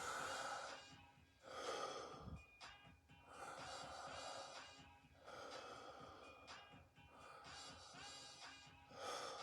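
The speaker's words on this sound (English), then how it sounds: "take all the air in through my mouth, get as much in as I can to stretch out those lungs, and then breathe it out through my mouth as well" Slow, deep breaths drawn in and pushed out through the mouth during a bodyweight fitness class warm-up, several full inhale-exhale cycles in a steady rhythm, close and fairly quiet with no talking.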